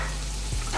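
Garlic, onion, peppers and meat fry in a hot pan, giving a loud, steady sizzle with a low rumble underneath and a short swoosh near the end.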